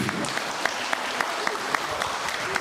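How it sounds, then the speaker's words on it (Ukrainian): Guests at a wedding celebration keep up an even round of applause, many hands clapping in a continuous dense patter with a few sharper claps standing out. "Ваші оплески для всіх всіх."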